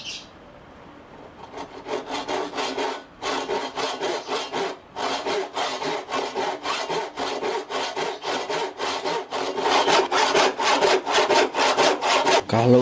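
A Hasston hand saw rips along wood grain in fast, regular back-and-forth strokes, each a close, rasping scrape, keeping a steady rhythm that grows slightly louder toward the end with no talking.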